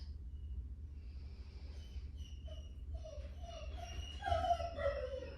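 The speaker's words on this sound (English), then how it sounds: "You can hear my dog." A dog howls in a quiet room, faint at first and then rising into a longer, wavering howl near the end, over a low steady hum.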